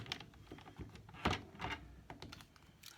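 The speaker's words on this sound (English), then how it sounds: "So I've just made a little score line on that" A score blade running across card stock to make a score line, a series of quiet clicks and thunks, with one sharper knock partway through and no voices.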